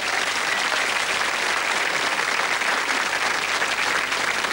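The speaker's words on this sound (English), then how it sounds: "if you like them, shout and cheer" A TV studio audience applauds and cheers, a dense, steady wash of clapping that stays loud and even throughout with no break.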